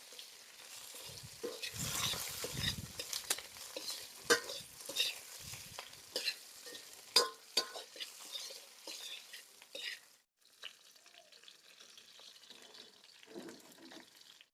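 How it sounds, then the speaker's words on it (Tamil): Tomatoes sautéing and being stirred in a pan for a spicy fish curry: close, irregular scraping strokes over a soft sizzle, growing quieter and sparser toward the end. "தக்காளி நல்லா மசியலோட வதங்கிக்கணும் வதங்கட்டும்"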